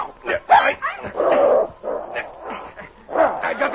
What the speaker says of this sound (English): Nice dog. Here's some meat.